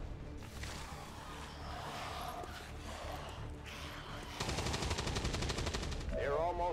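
Rapid turret gunfire in XCOM 2, a dense burst of repeated shots loud and close, rising in intensity toward the end over a busy game soundscape.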